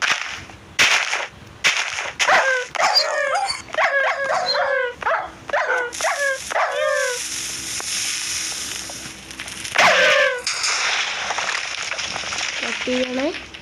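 Dogs near a dog house barking in short yipping bursts and whimpering, loud and close, with a clustered run of barks early on and a few later yelps, among intermittent background noise.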